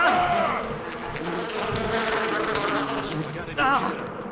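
Angry bees swarming out of a struck beehive in the video game Far Cry 4, a dense continuous buzzing drone that stays loud throughout, with faint voices beneath.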